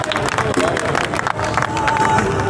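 Crowd clapping and cheering at a teachers' association protest rally in support of visiting union groups, loud and busy with voices and babble mixed in throughout.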